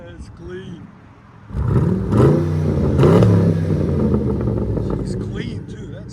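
A 2009 Pontiac G8 GT with a 6.0L V8 and muffler delete revs up nearby, its loud engine roar rising in a couple of swells and then holding steady, while people talk over it.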